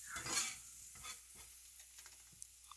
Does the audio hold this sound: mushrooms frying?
yes